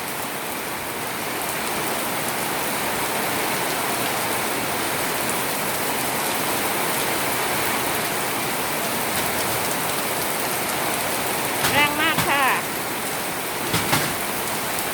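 Heavy rain pouring down in Samut Sakhon, Thailand, a dense, loud, continuous roar of rain on surfaces with brief clatters near the end, no voices heard.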